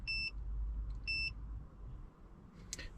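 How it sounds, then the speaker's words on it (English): A BYD 2025 car sounds two short, clear electronic beeps a second apart over a low cabin hum, followed by a faint click. "if I press this 5 times, it will now beep 5 times."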